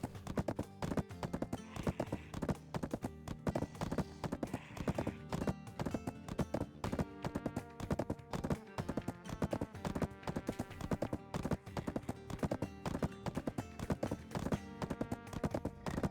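Horse hooves gallop in a fast, steady clip-clop rhythm throughout in Black Desert Online, loud and continuous, with a couple of brief whinnies near the start and game music underneath.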